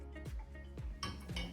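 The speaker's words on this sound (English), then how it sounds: "and give that a stir as well" A spoon scraping and clinking against a pan while stirring beans with passata and maple syrup, a few short metallic knocks and scrapes close up.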